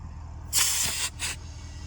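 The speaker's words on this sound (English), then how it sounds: "I'm gonna put air in it from this full tire." Compressed air hissing as it is let out of one full tire and sent into another, two bursts: a longer, loud hiss of about half a second, then a short second puff, with no talk.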